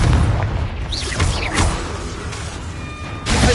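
A Confringo fire spell from Hogwarts Legacy bursts loudly near the start over a dense, roaring background, with further whooshing blasts and magical crackle layered through the clip.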